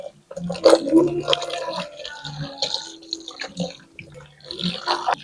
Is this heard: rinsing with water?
yes